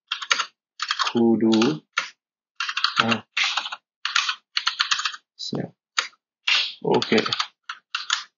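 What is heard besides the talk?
typing on a computer keyboard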